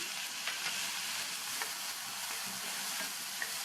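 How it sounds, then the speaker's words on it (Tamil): Chopped onions and tomatoes, lightly salted, sauté gently in a pan for a chutney. A soft, steady sizzle runs throughout, with occasional faint stirring taps and no talking. "இந்த தக்காளியும் லைட்டாக வதங்கினா போதும்"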